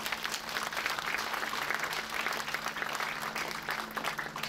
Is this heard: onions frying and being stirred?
no